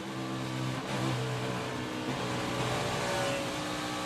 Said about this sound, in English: the engine starts sputtering and missing